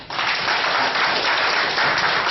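An audience claps together in a dense, steady burst of applause that carries evenly through the whole stretch, with no voices over it.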